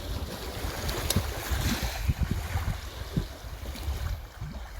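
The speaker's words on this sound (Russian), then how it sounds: "Немножко дует ветерок встречный" A light headwind blows across the open water of Lake Baikal beside a kayak, a steady broadband rush with low microphone buffeting and soft lapping of water, no voices.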